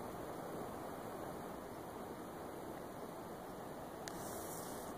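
A distant waterfall near Elbow Lake, below Mount Cowen, gives a faint, even rushing hiss that stays constant throughout, with no voices or other sounds.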